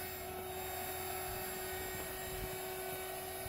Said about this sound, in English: So we're going to crank this fan all the way up.